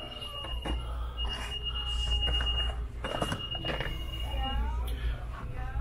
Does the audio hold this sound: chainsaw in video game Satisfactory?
no